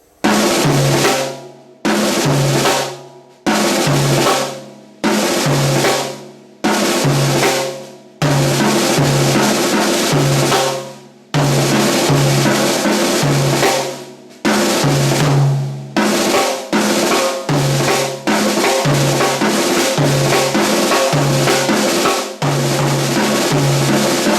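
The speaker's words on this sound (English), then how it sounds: "you can move back and forth between the mounted tom and the floor tom" A long run of loud, rapid six-stroke drum rolls alternating between a mounted tom and a floor tom, some short bursts with gaps, others running together continuously.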